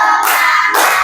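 A classroom of pupils claps together in a counting clap game, two loud broad bursts of hand claps close by, each ringing briefly before the next.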